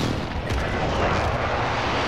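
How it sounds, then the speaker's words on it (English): Friendly precision airstrike explosions in a shooter video game, a dense continuous barrage of booms and blasts that stays loud and steady, heard alone with no talking. "Be advised, friendly precision airstrike inbound."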